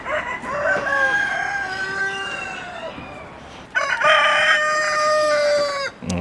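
A brown rooster crows loudly and close among chickens in a free-range poultry yard, with two long cock-a-doodle-doo calls separated by a pause, soft clucks and hens in the background.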